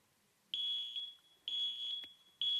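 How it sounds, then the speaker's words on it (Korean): An electronic alarm sounds three long, piercing, high-pitched beeps, each about half a second, repeating roughly once a second in an otherwise quiet space. "삐삐 소리 들려요, 안 들려요?"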